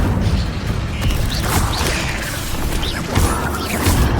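A fire spell cast in the video game Hogwarts Legacy, with loud mechanical rumbling, whooshes and creaking crashes layered together in a dense, close burst of game effects.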